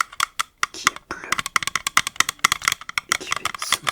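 A blue roll of sticky tape handled close to the microphone, giving a rapid run of crisp tapping, crinkling and peeling clicks in quick irregular bursts, soft and intimate with no talking.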